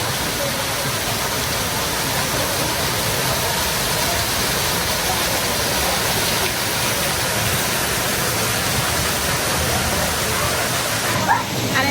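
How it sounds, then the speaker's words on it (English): Cave waterfall near Ko Olina, Hawaii, heard as a loud continuous roar of rushing water filling the whole clip with no break. "we're gonna be coming up on the cave of waterfalls"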